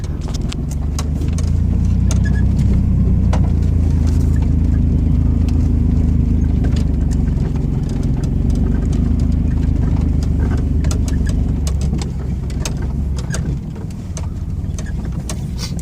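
A 2002 Chevy S10 ZR2 pickup with a factory G80 locking rear differential, running in four-wheel drive, gives a loud, steady low engine rumble with faint clicks and rattles throughout that ease slightly near the end.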